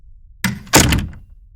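A door closes in a basement stairwell, a sharp thunk followed by a fuller bang and brief rattle, fairly close and loud, with no talking.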